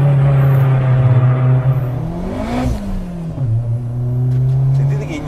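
Turbocharged Fiat Grande Punto Abarth tuned to 420 hp, the engine revving up sharply to a high peak and falling back to a steady drone, heard up close from inside the car.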